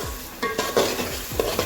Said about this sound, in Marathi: आता हे व्यवस्थित मिक्स करून घ्यायचं.